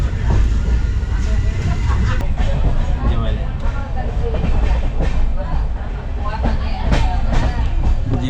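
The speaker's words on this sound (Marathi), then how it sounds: "ट्रेनचा स्पीड बघा किती आहे. 106-107चा स्पीड आहे." Konkan Railway express, the Jamnagar–Tirunelveli service, running at around 106–107 km/h: a loud, continuous roar of wheels with rhythmic clatter on the rails, heard from inside the coach with voices murmuring underneath.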